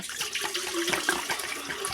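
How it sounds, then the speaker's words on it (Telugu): Water pouring steadily into a cooking pot on the stove to boil cauliflower for Gobi 65; a continuous close splashing gush throughout. "ఆ కాలీఫ్లవర్ సరిపడా నీళ్ళు పోసుకుందాము"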